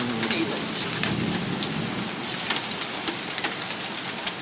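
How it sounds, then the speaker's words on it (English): Sleet and small ice pellets pelting a car during a severe August thunderstorm, a dense steady patter with sharper clicking hits, heard from inside the vehicle with faint thunder rumbling beneath. "ice hitting the car. Here it is August and it's sleeting already."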